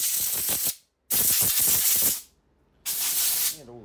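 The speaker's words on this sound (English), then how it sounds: "Get the air on it and give it a quick blow." Compressed air hisses in three loud bursts, long blasts with short gaps between them, blowing dirt off the outside of a Honda HR194 lawnmower carburetor on a workbench.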